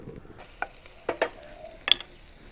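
Garlic, onion and chili frying in olive oil in a pan, heard as a quiet sizzle broken by a few sharp clicks and scrapes of stirring, close and without talk.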